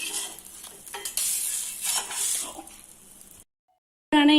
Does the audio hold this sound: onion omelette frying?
yes